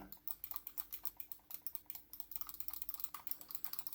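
Rapid, muffled clicking from the silent buttons of an Inphic gaming mouse pressed together, two at once, a dense stream of light taps with short pauses, close and fairly soft.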